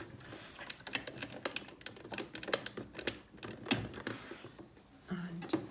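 A sewing machine stitches a fabric tote bag handle in quick rattling bursts, pausing and restarting, with a voice talking at times.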